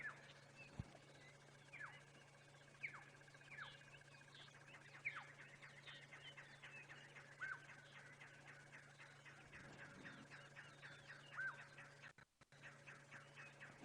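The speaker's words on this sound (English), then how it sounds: "You can hear some of the birds' alarm calling in the background." Repeated sharp bird alarm calls sound in a steady series against a low ambient hum, moderately distant, with occasional faint background noise, on an African safari game drive at sunrise.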